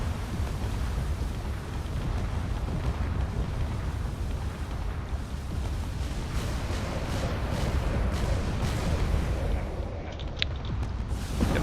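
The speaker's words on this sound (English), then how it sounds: "this Corvette is taking a massive amount of damage from all those cannons" Video-game cannons pounding a corvette, a dense, continuous roar of booming blasts that stays loud throughout with no talking.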